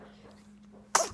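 A small dog's quick little sneeze bursts out loud and close near the end, after a faint quiet stretch with a low steady hum.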